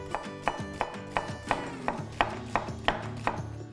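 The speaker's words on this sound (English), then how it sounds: "we're gonna move on to a red onion here. We're just gonna give it about 1/4-inch slices." A knife slicing a red onion into quarter-inch slices on a cutting board, with about eight crisp, evenly spaced chops at a steady rhythm, close and clear.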